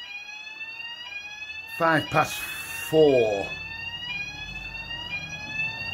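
Several fire alarms sound continuously, steady high electronic tones held nearby, with a voice cutting in briefly partway through.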